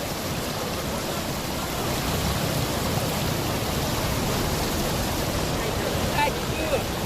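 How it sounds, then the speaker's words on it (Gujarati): Heavy rain falls during a storm, with rushing floodwater, making a dense, continuous hiss and roar at steady loudness from start to finish. "દાહોદ શહેરમાં વાવાઝોડા સાથે ધોધમાર વરસાદ ખાબક્યો"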